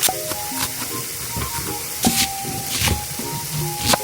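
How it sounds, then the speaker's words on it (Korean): Tofu cooking in an oiled pan as its moisture is driven off, a continuous sizzle and hiss with intermittent bursts of spattering and scraping, close and fairly loud. "두부를 물기를 빼가지고 고슬고슬하게 밥처럼 밥 대신으로 수분을 날려줄 거예요"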